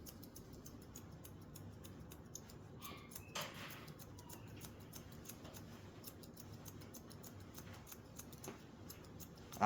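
Scissors snipping through hair during a haircut, a quiet run of rapid, irregular clicks and snips close by, with occasional brief louder cuts against a soft background.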